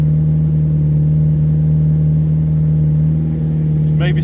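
A rebuilt A-series car engine idles loud and close, a steady even hum with a constant drone, running alone without speech.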